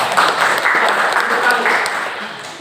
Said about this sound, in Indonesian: Bagus, tepuk tangan dulu ya.